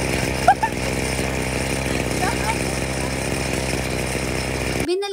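Grass cutter engine running steadily and loudly in a farm field, a continuous buzzing drone with brief voices cutting in early on, ending abruptly near the end.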